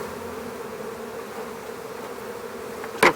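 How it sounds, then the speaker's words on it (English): A honeybee swarm fanning their wings at a hive entrance makes a close, dense, continuous buzzing drone, with a short louder burst right at the end. "They face the entrance to the hive, fan with their wings to push the pheromone up into the air."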